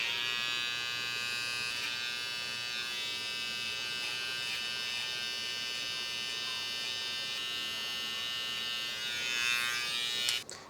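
Electric hair clipper cutting a lineup, a steady high-pitched buzz running continuously and close up for about ten seconds, alone without talk, ending with a brief clatter.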